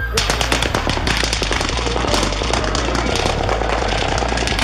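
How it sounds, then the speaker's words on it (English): Rapid automatic gunfire in Las Vegas, dense bursts of shots echoing off surrounding buildings so each crack smears into rolling reverberation, loud and continuous over a low rumbling drone. "the recording of a gun fired in that environment is going to have lots of this reverberation present"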